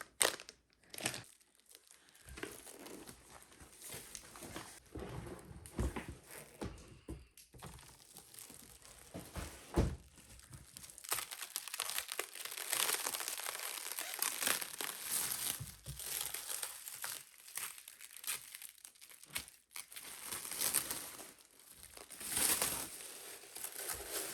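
An iDecoMart product package is unwrapped up close, with sustained crinkling and crumpling of plastic and paper plus occasional tearing, going on in bursts with brief pauses and no speech.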